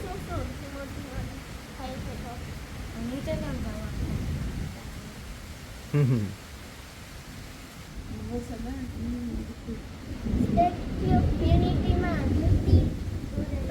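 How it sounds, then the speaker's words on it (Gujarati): Nighttime thunderstorm with steady rain and wind, low rumbling thunder rolling through and swelling louder near the end, with a voice talking over the storm. "વરસાદ ગાજે છે વીજળી થાય છે વરસાદ ધીમો ધીમો ધીમો શરૂ થઈ ગયો છે"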